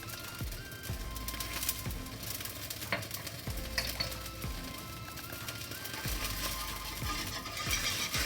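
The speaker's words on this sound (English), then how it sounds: "And mixing it thoroughly with the whisk." A whisk stirs red curry paste in a pan over a high flame, giving a steady sizzle with repeated scraping strokes close by.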